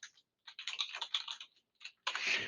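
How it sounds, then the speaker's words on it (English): Quick bursts of keystrokes on a computer keyboard, light close clicking in short irregular runs with brief pauses, ending in a denser flurry, quiet and without any voices. "Yeah, I'll just type out the word power."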